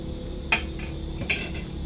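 A utensil stirs steamed sticky rice in a pot, giving two quiet scraping clinks against the metal about a second apart, with a low steady hum underneath.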